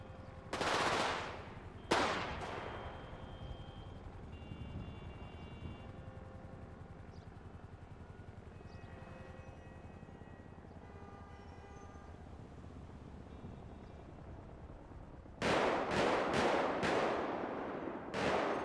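Loud bursts of rapid automatic gunfire in a video game, two short volleys near the start and a longer run of rapid shots near the end, with a quieter rumbling background between them.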